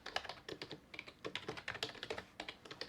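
Code is typed at a steady, brisk pace on a computer keyboard, with dense close clicks and taps and no voice over them.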